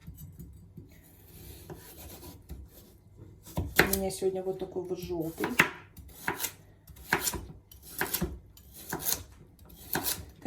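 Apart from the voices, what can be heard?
knife chopping yellow bell pepper coarsely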